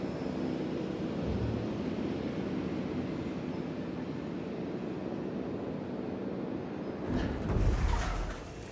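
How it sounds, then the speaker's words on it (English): Helicopters fly over a dinosaur park in the video game Jurassic World Evolution 3, heard as a steady, droning aircraft rumble that holds evenly and swells slightly near the end. "now I'm going to have helicopters flying over my park all the time."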